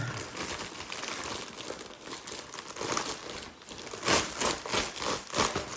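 Plastic packaging crinkles and rustles loudly up close while an embroidery order is unboxed, an irregular crackling with a few sharper tearing bursts toward the end.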